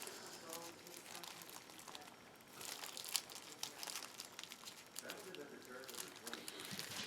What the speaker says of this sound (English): You open your beeswax.